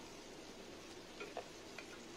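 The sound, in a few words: potatoes frying and being stirred in a pan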